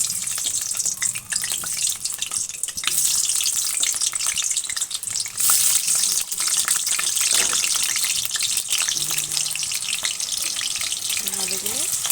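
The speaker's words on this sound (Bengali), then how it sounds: "আলুগুলো ভেজে নিচ্ছি।" Potatoes fry in a small amount of hot oil in a wok, giving a steady, loud, hissing sizzle throughout with occasional stirring scrapes.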